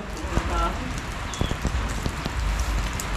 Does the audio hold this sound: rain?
yes